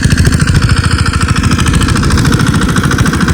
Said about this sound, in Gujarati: આ ટ્રેક્ટર છે જે સિંગલ હાર જ કાઢે છે, પણ નાનું ટ્રેક્ટર છે